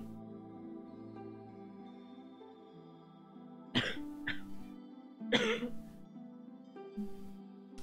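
Coughing and throat clearing from cleaning product fumes after bathroom cleaning: a few sharp, close coughs in separate bursts over a quiet background hum, with no talk.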